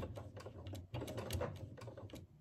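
Domestic sewing machine quilting layers of fabric, its needle running in short, irregular bursts with brief pauses, fairly quiet and close.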